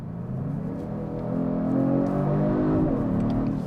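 A 2022 Genesis G70 RWD engine runs steadily under load, then its tone rises and shifts as the automatic gearbox changes to the next gear, with continuous close engine drone and no talk.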